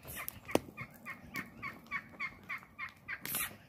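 Turkeys gobble outdoors near horses and rabbits, a rapid rhythmic series of warbling calls at moderate distance with no voices over them.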